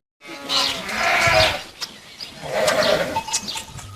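Three-week-old lambs bleat close by, two wavering calls in quick succession with a faint rustle between them.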